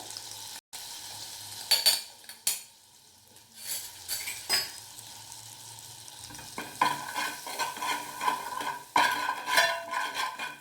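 Jeera powder cooking in butter in a pan, with a soft sizzle under repeated scraping stir strokes and occasional utensil clinks against the pan; fairly quiet and close, with no talking.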